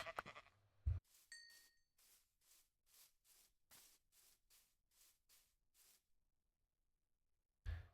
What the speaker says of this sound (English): we'll go after this sheep ourselves